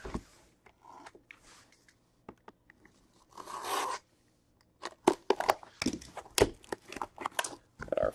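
A Museum Collection baseball card hobby box being opened and cards unwrapped, with close crinkling, tearing and rustling of packaging in irregular bursts and a louder tear near the middle.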